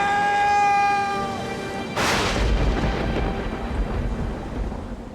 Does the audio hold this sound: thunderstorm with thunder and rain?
yes